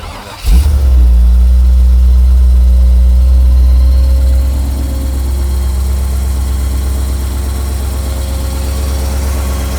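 A 1955 Buick V8 fires up and settles into a loud, close, steady idle with a deep rumbling drone and a slight easing of volume after the first few seconds, with no voices over it.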